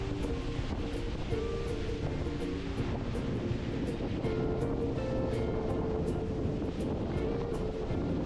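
Strong wind roaring through trees in the hills of Valparai, Tamil Nadu, a continuous loud rushing gusty noise with buffeting against the microphone.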